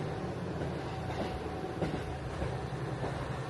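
A train runs along the Hanasaki Line with its windows open, a loud continuous rumble of wheels and rail noise that fills the space evenly throughout.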